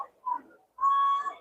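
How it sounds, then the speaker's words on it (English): Referee whistles blast at a high school football game, Walton Braves versus Marianna Bulldogs: a short whistle, then a longer shrill sustained blow, both fairly close and loud with no talk over them. "And, whistles go to blowing."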